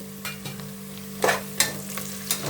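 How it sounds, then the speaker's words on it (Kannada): Onions and green chilies fry in a pan with a quiet steady sizzle, broken by several sharp scrapes and clinks of a spoon stirring them. "ಈರುಳ್ಳಿ ಫ್ರೈ ಆಗ್ತಾ ಇದೆ ನೋಡಿ"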